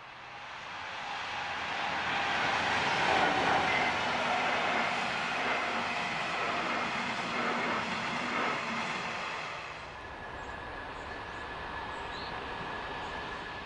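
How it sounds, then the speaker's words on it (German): A DB Class 218 diesel train rolls along with a steady rumble and rattling wheels, its noise slowly easing as it slows into Ampfing station, then a quieter hum settles in. "Wir rollen in den Bahnhof Ampfing."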